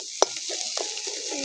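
Spiced potato filling with chopped coriander being stirred in a hot pan, a steady close sizzle with soft scraping and one sharp utensil tap near the start.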